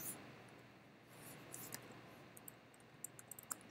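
Soft computer mouse clicks while cells are selected in an Excel spreadsheet, faint and sparse at first, then a quicker run of small clicks toward the end over a quiet room hiss.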